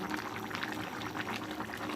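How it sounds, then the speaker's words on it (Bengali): Chicken and fried potatoes sautéing together in a pan, a dense steady sizzle and bubbling hiss, close and continuous throughout. "মুরগিটা কষানো হচ্ছে তার ভিতরে ভাজা আলুগুলো দেওয়া হলো"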